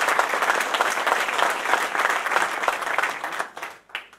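Dense, sustained audience applause at a political gathering, loud and continuous with no speech over it, thinning out and tapering near the end.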